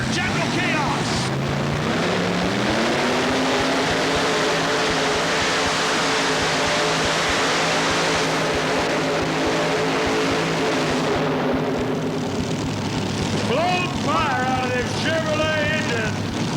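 A tractor-pull tractor with Chevrolet engines, General Chaos driven by Jack Whitley, roars loudly and continuously at an indoor arena, engine pitch rising and holding, with an announcer's voice over it near the end.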